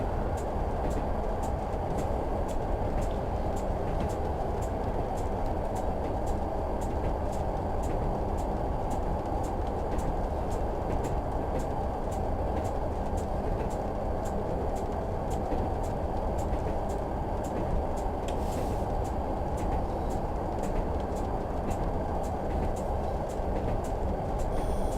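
A Class 101 diesel multiple unit in Train Simulator rolls downhill on a steep gradient between Barnard Castle and Bishop Auckland, its engine and wheels giving a steady, loud rumble throughout with no talk.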